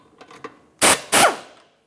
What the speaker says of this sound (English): loosen this nut, and break this free.